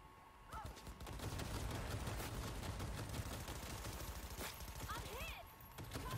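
Rapid automatic turret gunfire crackles through a firefight in the video game Cyberpunk 2077 Phantom Liberty, a dense continuous barrage of shots that stays fairly constant throughout, with a few brief electronic chirps mixed in.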